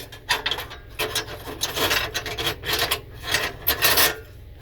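Metal grate of a Sterno camping stove scraped and fitted into place, a run of close rasping, rubbing scrapes in irregular bursts with no talk.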